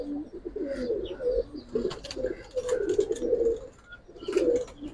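Pigeons at a seller's loft of Giribaz and coloured pigeons coo in repeated low throaty rolls, close by and fairly loud, with a few faint chirps mixed in and no talking.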